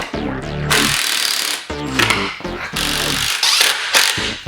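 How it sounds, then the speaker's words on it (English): Power drill running in bursts while pre-drilling holes and driving into 2x4 lumber for a portable picnic-table jump, loud and close, with whining motor pitch rising and stopping between short runs. "you'll pre-drill holes at each mark and then attach a 2x4"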